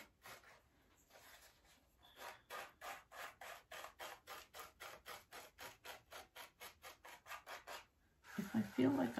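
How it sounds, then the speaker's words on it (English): A dry chip brush swept back and forth over gold leaf foil, making a soft, rhythmic series of raspy brushing strokes, close and fairly quiet, ending with a slightly louder scrubbing. "is a chip brush and it is dry, and I'm just gently putting it over the foil so that it"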